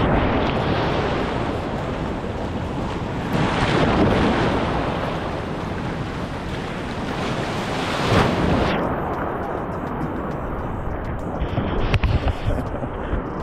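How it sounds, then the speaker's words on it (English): Rough sea surf washing and churning continuously, with gusty wind buffeting the microphone, on a morning at the water in Jamaica; loudness swells in waves with a few stronger surges. "water is rough this morning"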